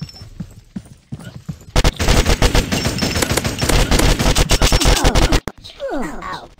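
Minigun fire in the video game Pixel Fury, a loud sustained burst of rapid shots lasting nearly four seconds, preceded by quieter game sounds and followed by an abrupt stop and a brief falling whoosh.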